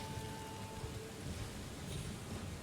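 Steady rain in the video game Elden Ring, a soft broadband hiss of falling drops that holds evenly throughout with no voices.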